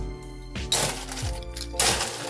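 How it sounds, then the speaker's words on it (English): Ice dropped into a metal cocktail shaker while mixing a St. Patrick's Day shot with sour mix, giving two loud clattering, cracking bursts of cubes striking metal, close and clear over a low background hum. "And then now we're going to add ice to our shaker,"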